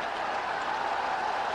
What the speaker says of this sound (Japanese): スタンド前の大歓声